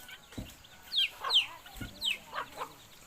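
Chickens cluck repeatedly in a hill-tribe village in the morning, with short, bright calls coming in irregular bursts over a quiet outdoor background.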